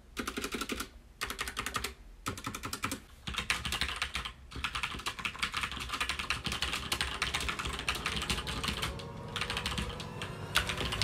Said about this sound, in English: my parents decided to get me red linear switches